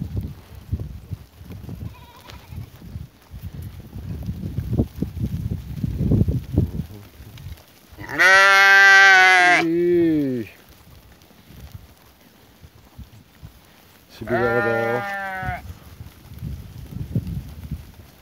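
Sheep in a flock in Nakhchivan bleat loudly in two long calls close by, one early and one later, over steady shuffling and rustling of the animals between calls.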